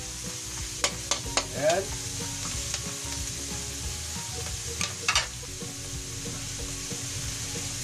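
Onions sizzling in a pan while being fried and stirred for a mixed vegetable dish, a steady close hiss with scattered scraping clinks of the utensil and a brief spoken word.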